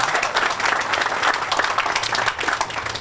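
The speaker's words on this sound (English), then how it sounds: "let's give her a round of applause" A Veterans Day remembrance crowd in Manatee County applauds the mayor, steady dense clapping throughout at even loudness with no speech.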